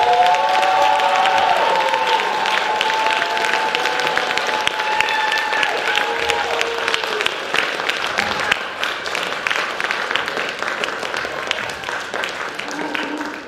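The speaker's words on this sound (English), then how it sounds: "Let's give our Lower School a round of applause." A large school holiday assembly audience claps steadily for over ten seconds, a dense continuous wash of applause with some cheering voices mixed in.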